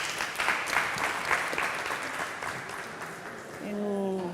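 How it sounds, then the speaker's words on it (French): Audience applause at a televised French-language ceremony, a dense steady clatter of many clapping hands lasting several seconds, fairly close, with a rising tonal sound near the end. "Je vous demande de l'applaudir très fort."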